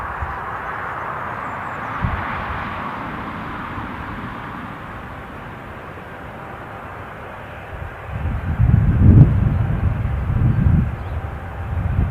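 A KLM airliner taxis at Newcastle airport, its engines a steady broadband roar that swells noticeably louder and nearer toward the end.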